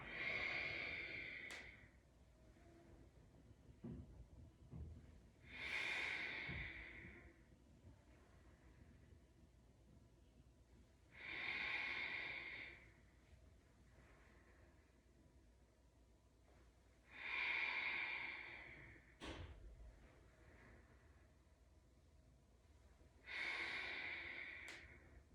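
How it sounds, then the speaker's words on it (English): Slow, steady breaths during a seated chair yoga session, drawn in and let out in long even cycles roughly every six seconds, close and soft with a quiet room behind them. "Breathing out."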